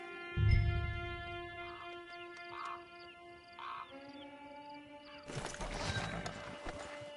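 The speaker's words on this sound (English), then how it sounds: "Get your horse." A horse in a PS4 video game snorts and whinnies close by, with a low thud early on, soft hoof clops, and a rougher burst near the end over a steady tonal background.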